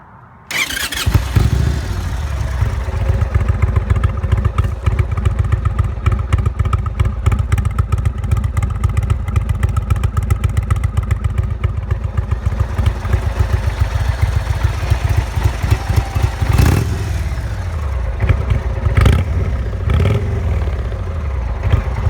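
A 2018 Indian Roadmaster motorcycle with a 116 cubic inch kit and Stage 1 aftermarket pipes starts and idles with a deep, rapid, throaty exhaust pulse, loud and close, with a few short revs near the end.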